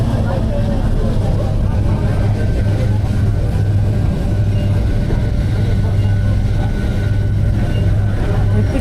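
The Montenvers rack railway train near Chamonix runs uphill toward the Mer de Glace, a loud steady rumble and drone heard from inside the car, with a low motor hum throughout.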